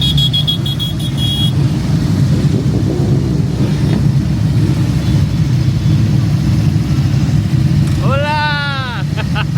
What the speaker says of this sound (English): I hear motorcycles, so I get attracted.